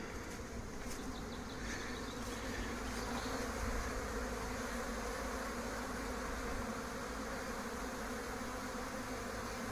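Honeybees swarming at the hive entrance in an apiary at Santeny, a dense continuous buzzing hum close to the hives, steady and unbroken throughout with no voices.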